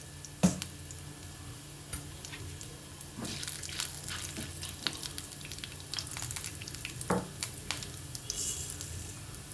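Chana dal and urad dal fry in hot oil for a cabbage fry tempering, a soft ongoing sizzle with scattered spoon scrapes and clinks against the pan.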